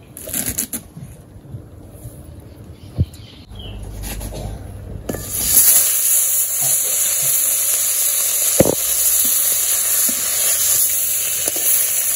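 Fish sizzling as it fries in a pan on a home stove, a steady hiss that swells louder after a few seconds and holds, with occasional crackles and no talk.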